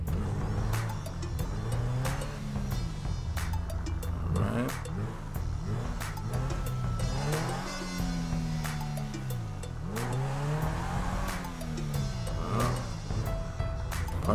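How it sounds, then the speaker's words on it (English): A Porsche sports car drives in GTA 5, its engine revving up and down in repeated rising and falling sweeps as it accelerates and shifts, steady and fairly close, with other game sounds in the background. "So what we are going to do is spawn a car and get our Porsche back out."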